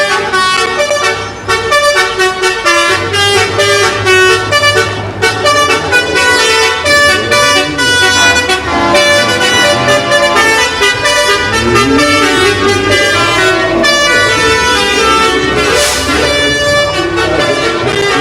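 Trucks from a transport company in a nighttime holiday parade in Marion, Illinois, honk their horns almost without pause for nearly twenty seconds, a loud, layered blare of overlapping tones.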